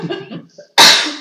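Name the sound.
sneeze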